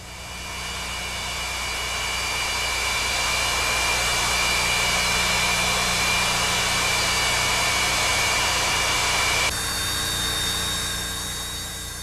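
Antonov AN-225 Mriya aircraft with six Lotarev D-18 turbofan engines, a loud steady jet roar and high whine that holds evenly for about ten seconds before its tone shifts slightly, with no talking.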